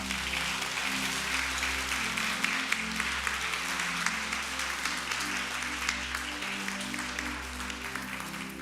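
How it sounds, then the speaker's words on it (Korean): Steady applause from a moderate church congregation after a baptism fills the whole stretch, even and sustained with no voices rising above it. "우리 한번 축복의 박수 해주시기 바랍니다."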